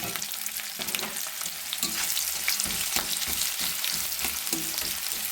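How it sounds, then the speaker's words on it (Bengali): Onions fry in oil in a kadai for aloo dum, a close, continuous crackling sizzle with intermittent scraping of stirring, no voices. "এবারে আমি পেঁয়াজটা ভেজে নেব লাল লাল করে"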